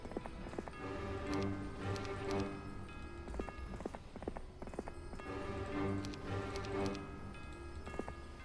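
Horse hooves clip-clop steadily in Heroes of Might and Magic III, a brisk rhythmic trot of hard clacks repeating continuously at moderate loudness with no talk.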